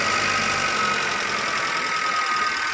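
Suzuki APV engine starting up and settling into a steady idle, a continuous close mechanical hum with a faint knocking texture and no voices over it.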